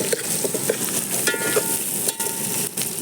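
Onions frying in a pan for chicken daapadam, a steady close sizzle broken by quick stirring scrapes and a couple of sharper knocks of the spoon, with no one speaking.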